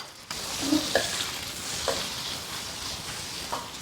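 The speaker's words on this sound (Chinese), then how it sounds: "把锅治好后，下入五花肉" Pork belly fries in a wok with a steady, close sizzle, broken by a few light clinks and scrapes from stirring.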